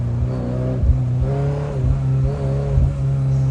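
A manual Ferrari 348 sports car's engine revs repeatedly, climbing in pitch several times with brief dips between shifts, close and fairly loud over a steady hum.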